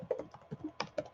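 Fingers typing on an American-layout computer keyboard, a quick irregular run of crisp, close key clicks with a few sharper strikes, quiet and alone.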